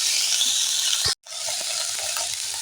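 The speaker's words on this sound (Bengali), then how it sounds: "এইভাবে আমি এখন নাড়তে থাকবো কিছুক্ষণ" Snails and turmeric sizzle loudly in a pan while being stirred, giving a continuous frying hiss with light scraping taps. A brief moment of silence breaks the sound before the sizzling resumes.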